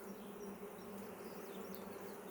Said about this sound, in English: that hive here is really noisy